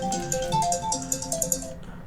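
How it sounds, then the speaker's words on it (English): A phone rings with an incoming call, a bright melodic ringtone of repeating tones for about two seconds, fairly loud and close, with no talking over it. "Hold on, I got a phone call for some reason."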